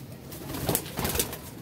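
A pigeon gives a couple of low, soft cooing calls close by, separated by a short gap, over faint background rustle.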